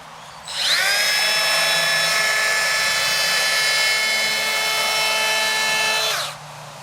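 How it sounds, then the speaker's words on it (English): A Milwaukee M12 cordless planer spins up into a loud, high whine and runs steadily across a piece of wood for about five seconds before cutting off abruptly, with no voices. "Right, let's go planing."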